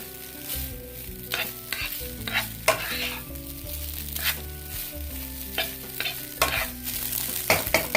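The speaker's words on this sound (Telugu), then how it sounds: "దీన్ని హై ఫ్లేమ్ మీద టాస్ చేసుకుంటూ ఉండండి." Veg fried rice tossed and stirred in a pan on high flame, a loud continuous sizzle broken by repeated scraping and clattering strokes, close up and without speech.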